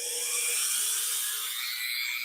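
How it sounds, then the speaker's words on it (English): A Dremel rotary tool doing fine detail work whines at a steady high pitch, held close and fairly loud for a couple of seconds with no talking. "I got a tool or two, but the Dremel does so well for the finesse work, for the fine details."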